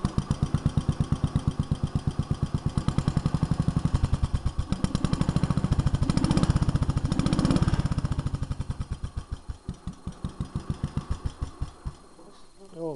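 A Jacobsen Chief 800 garden tractor with a stack exhaust runs at a steady, close, rhythmic putter that rises briefly, then sputters and dies near the end. Someone talks over it.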